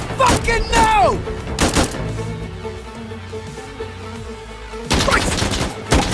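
Weapon fire, including LMG machine-gun fire, rings out in the Insurgency Sandstorm video game: loud, clustered bursts of shots at the start and end, with a quieter stretch of rumbling between them and some voices mixed in.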